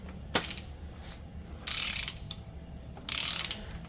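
Torque wrench ratcheting on cylinder head bolts of a sprint car engine: a sharp click, then two separate bursts of rapid ratchet clatter about a second long each, close and clear in a quiet workshop.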